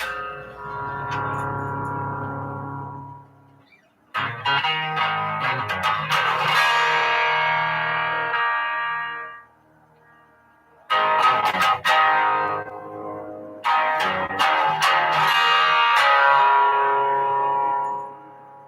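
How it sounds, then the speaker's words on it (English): Distorted electric guitar, a Telecaster, drenched in delay pedal, with echoing repeats trailing off; loud phrases separated by brief pauses, no voices. "some stuff going on with the delay pedal"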